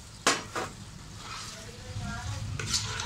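Taro (arvi) masala fries in a pan, with a soft continuous sizzle broken by a few sharp spoon-on-pan clacks as it is stirred, close and fairly quiet.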